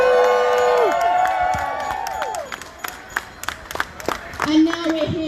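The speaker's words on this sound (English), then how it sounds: "Can we have a cheer?" Extinction Rebellion protest crowd at a 2020 uprising raises a cheer of whoops and shouts with scattered claps, voices gliding up and down, fading to sparse claps before another whoop near the end.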